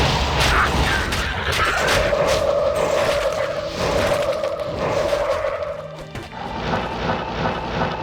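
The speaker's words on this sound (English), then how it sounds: "Really like the large AoE corpse, large AoE from Corpse Explosion." Corpse Explosion blasts go off in Diablo 2, a run of dense, booming bursts with rumbling low impacts layered together and sustained, loud game effects over about eight seconds.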